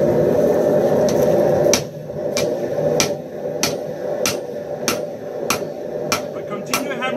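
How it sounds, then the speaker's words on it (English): A hammer strikes hot metal at the forge while a herb cutter is shaped, ringing out in a steady, evenly spaced series of loud, close blows after a roaring stretch at the start. "But continue hammering off on half, half, off until I've got half my metal isolated"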